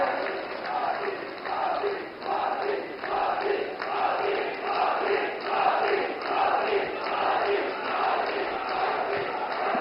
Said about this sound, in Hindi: जोरदार ताली बजा करके आप उनका वंदन करें